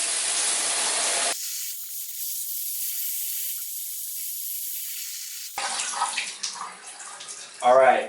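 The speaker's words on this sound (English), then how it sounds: "We're going to makeshift our own little rainstorm in here" Water sprayed over a Hommie 40L expandable backpack as a makeshift rainstorm, loud hissing spray in bursts with a quieter steady stretch between, and a voice briefly near the end.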